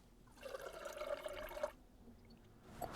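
Water pours into a pot being weighed to 250 grams for a wild camping stove test, a steady splashing stream lasting about a second and a half, close and moderately loud, then stopping.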